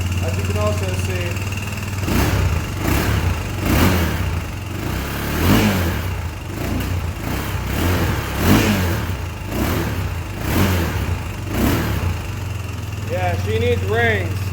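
A Yamaha YFZ450R ATV engine that is burning oil and needs a rebuild runs up close, revving again and again in regular pulses over its idle, with a person talking now and then.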